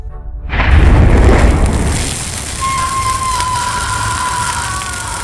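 A burning body bursting into flames as if doused in gasoline: a loud deep boom erupts about half a second in, then settles into a sustained roaring rumble with a thin whine rising over it toward the end.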